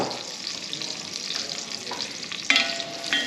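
Butter and olive oil sizzling and crackling in a pan for tomato bisque, a soft steady frying hiss with a few brighter spits near the end, close and without talk.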